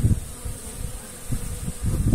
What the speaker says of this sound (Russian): Молодцы, молодцы, пчелки работают.